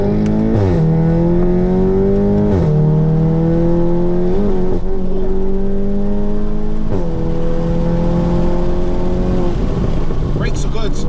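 VW Golf GTI Club Sport pulling hard through repeated gear changes, engine note climbing loud and close, then falling sharply at each shift, with brief voices underneath.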